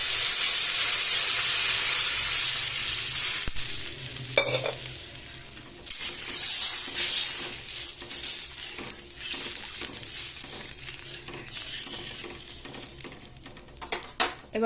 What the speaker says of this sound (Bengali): সবজিগুলো ভাজা হয়ে গেছে, এখানে আমি পুরো 1 ঘটি জল ঢেলে দিলাম।